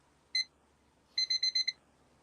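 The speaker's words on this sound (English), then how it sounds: "Now, I'm going to set this timer for 5 minutes." A kitchen timer being set for five minutes beeps: one short beep, a brief pause, then a quick run of five sharp electronic beeps, clear and close in a quiet room.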